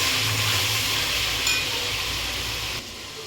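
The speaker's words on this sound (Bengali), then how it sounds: "এবার এগুলোকে ভালো করে একসাথে মশলাটাকে কষিয়ে নেবো" Spice masala being stir-fried in a pan for mutton liver, a close continuous sizzle with soft stirring that drops slightly near the end.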